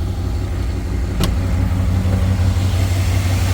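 A Pontiac Firebird, fired up in spring after sitting with a little fresh gas, idles steadily with a deep, even engine hum; one sharp click cuts through early on and the rumble continues unbroken.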